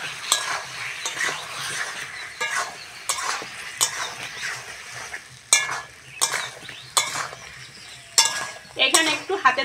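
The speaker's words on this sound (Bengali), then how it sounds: "এবার মশলার সঙ্গে কচু আর আলুটা ভালো করে কষে নেব।" Taro and potatoes frying with spices in a pan for a Bengali fish curry, a steady close sizzle broken by repeated scraping stirs and clinks of a utensil against the pan, with no speech.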